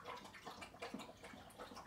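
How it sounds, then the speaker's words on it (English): Water laps and splashes gently in a soft, continuous wash with small irregular sloshes, quiet and close, with no voices. "You can't hear me over the lapping of the water."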